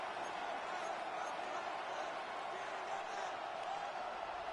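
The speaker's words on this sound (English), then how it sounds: "The Arrowhead crowd in full roar" A stadium crowd at Arrowhead roars steadily in the Madden 26 football video game, a dense, loud, continuous wash of noise with no breaks.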